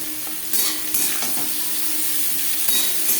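Slit green chillies and teasel gourd frying in hot oil, a steady sizzle with a few sharp scraping stirs of a spatula, close and alone with no voices.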